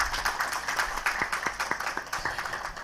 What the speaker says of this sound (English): A round of applause for all the panelists on the stage.